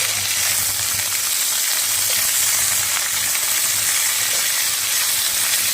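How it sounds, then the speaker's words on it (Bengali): Cauliflower florets fry in hot oil in a pan, a loud, even, continuous sizzle and crackle heard up close with no one speaking. "এই যে এখানে দেখো ফুলকপি ভাজা করতে দিয়েছি। কপিগুলো ভাজা হচ্ছে।"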